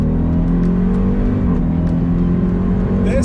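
A 707-horsepower Jeep Grand Cherokee Trackhawk SUV accelerates hard, its engine roaring loud and close with a steady, sustained drone and a slight pitch dip partway through as a gear changes.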